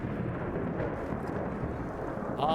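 Thunder in the video game Skyrim, a loud, continuous low rumble rolling for a couple of seconds with a brief higher tone near the end.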